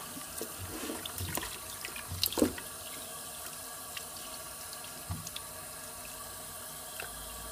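Raw chicken pieces washed under a running kitchen tap, steady close water flow into a sink with splashing, squelchy handling and a couple of louder sloshes, no talking.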